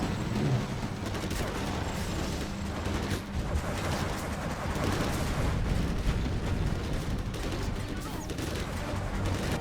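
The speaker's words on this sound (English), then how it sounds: "And now here comes pcap with his Overlords and Inferno cannons, and those are going to be down." Dense, continuous barrage of booming cannon fire and explosions in the strategy game Hostile Dawn, from Overlords and Inferno cannons, loud and overlapping with no pauses, with a voice talking over the battle.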